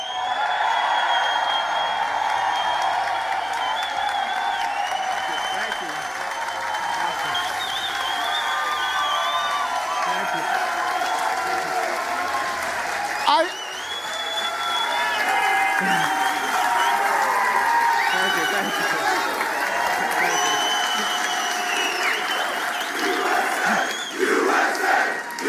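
A large crowd at an East vs West arm wrestling match cheers, shouts and applauds continuously and loudly, with whoops rising through the roar and no break in the noise.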